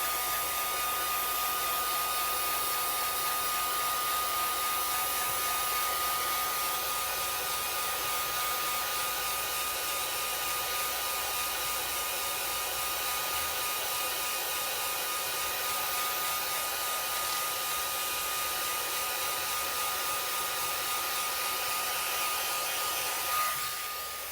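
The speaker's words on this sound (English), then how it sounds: "Always keep your heat tool moving." A heat tool blows steadily on alcohol ink over Yupo paper, a loud, even whirring hiss that runs unbroken and close for the whole stretch with no talking.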